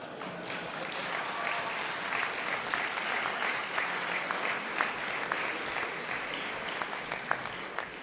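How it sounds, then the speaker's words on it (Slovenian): An audience at a seniors' association congress applauds steadily with many hands clapping, a dense even ovation that holds at a moderate level throughout. "Razumel sem, da bo na tem mestu aplavz."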